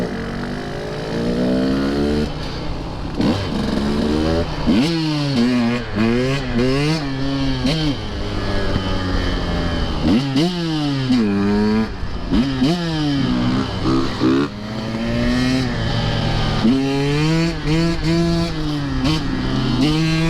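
A 2023 Husqvarna TE150 motorcycle engine revs hard and repeatedly, rising and falling in pitch through quick shifts, loud and close for about twenty seconds.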